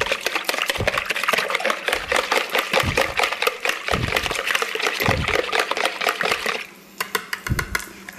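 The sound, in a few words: whisking a dressing in a bowl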